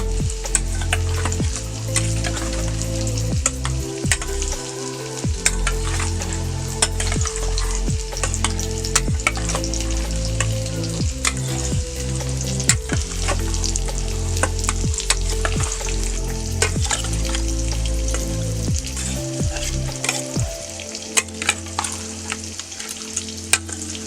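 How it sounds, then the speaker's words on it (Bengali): A steady, crackling sizzle of potatoes frying in oil on a small wood-fired clay stove runs throughout, with scattered pops and a tonal, music-like backdrop underneath. "আলু কিন্তু ভাজা হয়ে গেছে"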